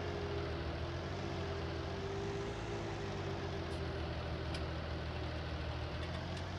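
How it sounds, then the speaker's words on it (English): Steady low drone of a Farming Simulator tractor engine idling and running at moderate revs in the Thuringian Oberland map, constant and even with no talk over it. "can I get the tractor around this corner here?"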